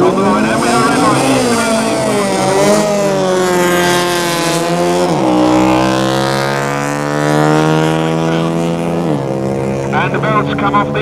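Supercharged drag racing cars at Santa Pod in 1968 roar loudly and continuously. The engine pitch climbs steeply as they accelerate, then drops sharply twice, near the middle and toward the end, before rising again.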